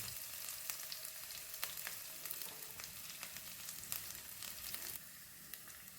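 Mustard seeds and chopped shallots fry in hot oil for a Kerala raw mango curry, giving a steady close sizzle dotted with sharp crackles and pops throughout, with no talking.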